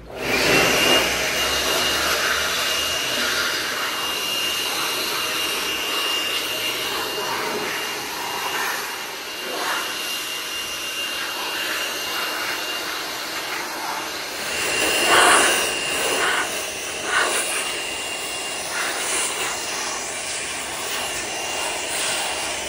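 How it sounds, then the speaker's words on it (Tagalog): A cordless Makita blower dries a freshly washed Subaru Legacy GT, roaring loudly and steadily at close range for over twenty seconds, with a brief surge partway through. "So, blower muna natin siya before natin punasan ng drying towel."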